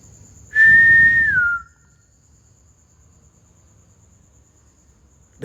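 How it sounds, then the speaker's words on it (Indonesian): A single clear human whistle, held steady then sliding down, sounds close by inside a villa for about a second, followed by near silence with a faint high background tone. "Wih, ada yang nyaut siulku"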